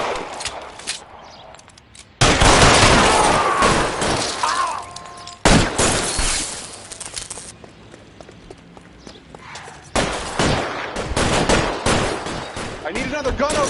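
Gunfire in an L.A. Noire firefight: loud bursts of shots in separate clusters with sharp cracks and ricochet-like clatter, near and harsh, separated by quieter stretches of ambient noise.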